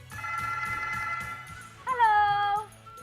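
A studio telephone on a dangdut radio station's call-in line rings in short repeated electronic bursts, then gives way to a brief rising-and-falling tone as the incoming call connects; fairly faint, with no speech.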